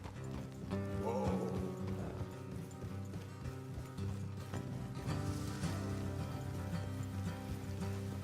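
Horses clip-clop along a road in the Red Dead Redemption 2 western game, steady hoofbeats blended with a continuous bed of music and ambient game sound, moderately quiet throughout.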